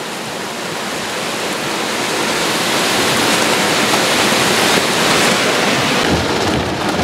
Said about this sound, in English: I can open this window and no rain comes in because it's coming from behind me.